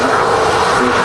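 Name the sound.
EasyJet Airbus A320 departing to Munich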